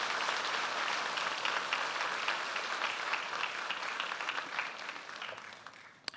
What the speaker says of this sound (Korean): 다 같이 박수로 이들의 입교를 축하합니다.